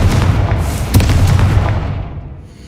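The Confringo fire spell from Hogwarts Legacy goes off as a loud, close booming blast with a crackling burst partway through, then rumbles and fades over the last second.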